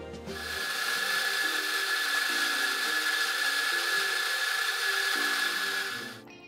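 Coffee grinder grinding beans into a portafilter at a café bar: a loud, continuous mechanical whir with a steady whine, starting and stopping cleanly over about six seconds.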